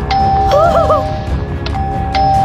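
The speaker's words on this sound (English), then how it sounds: "It's ringing the doorbell!" A doorbell rung at a villager's house in the video game Minecraft, a clear two-tone ding-dong chime over a humming background, with short sharp clicks around it.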